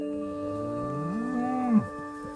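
A dairy cow gives a single loud, drawn-out moo that rises in pitch, holds, then drops off sharply near the end, heard up close with no talking.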